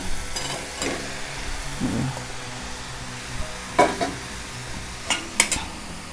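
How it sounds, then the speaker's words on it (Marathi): Ridge gourd stirred with softened onion in oil in a pan, a quiet low sizzle under intermittent spatula scrapes and clinks against the pan, close by. "तर आता कांदा मऊ झाला आहे, मी भाजी घालून घेते।"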